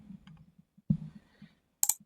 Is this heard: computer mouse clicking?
yes